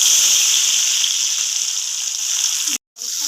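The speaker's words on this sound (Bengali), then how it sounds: "মাছগুলো ভাজা হয়ে যাক" Fish sizzle steadily in hot oil in a kadai, a bright continuous hiss close up, cut briefly by a short gap near the end before the frying resumes.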